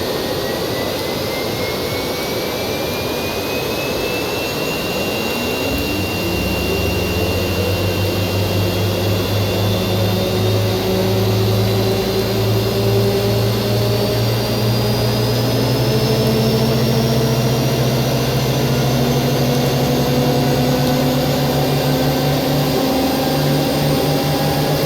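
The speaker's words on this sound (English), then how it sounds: "Lovely sound of those engines as they start up." Aircraft jet engines spool up in the airport simulation game AirportSim, a loud rising whine and low roar that climbs steadily in pitch and holds continuously with no talking over it.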